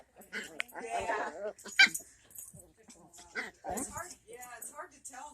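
Dogs whimper and yip close by, a mix of short high cries and grumbles, with a person speaking over and between them.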